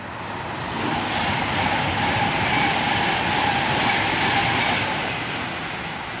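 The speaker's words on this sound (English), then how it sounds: "Also passing through is a northbound Pendolino service, which I think this one's heading to Birmingham New Street." A northbound Pendolino train passes through Milton Keynes Central station at speed, a loud steady broadband rush of wheels and air that swells in and holds for several seconds with no talking.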